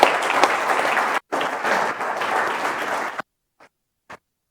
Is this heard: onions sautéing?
no